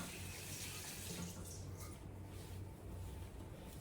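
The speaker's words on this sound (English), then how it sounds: "Let me just wash my hands a little bit" Tap water runs steadily into a sink as hands are washed beneath it, a continuous close splashing hiss with no talk.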